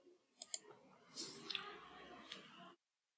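A few quick, light computer mouse clicks sound close and faint, with soft rustling between them, while an Excel template is being created.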